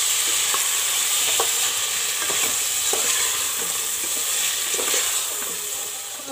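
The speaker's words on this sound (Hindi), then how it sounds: "इन्हें भी साथ में हम अच्छी तरह से भून लेंगे।" Turmeric, coriander and red chili powder roast in a pan for masala khichdi, giving a constant loud sizzle with soft, irregular stirring scrapes that ease slightly toward the end.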